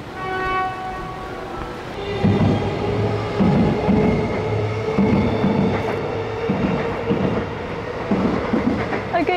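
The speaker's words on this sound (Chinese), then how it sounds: "可以看到火车从这里飞过去。" A train runs through a university campus in Hawthorn, Australia, passing nearby with a steady rumble and a regular clickety-clack of wheels over rail joints.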